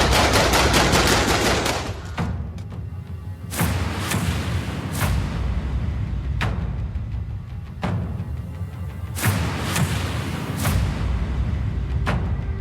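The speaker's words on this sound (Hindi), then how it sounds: "घर के बाहर ताबड़तोड़ गोलियां चलाती ये महिला।" A woman fires rapid bursts of gunfire outside a house, with sharp shots and rattling volleys echoing outdoors over several seconds.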